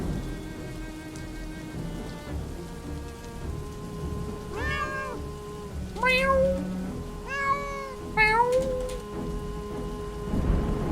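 Cats in the video game Dwarf Fortress meow several times in a row, distinct wavering calls spread across the stretch over a steady rain-like background hiss.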